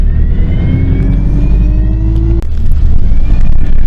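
Engine and road noise heard from inside a moving bus, a loud continuous low drone with a rising engine tone that drops off as the gear changes, then resumes.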